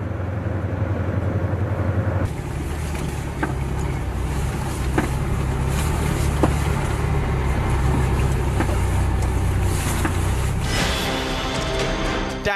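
A Russian armored convoy of tanks and trucks rumbles continuously with a loud, dense low-frequency drone of engines and treads, with occasional clanks and a shift in tone near the end.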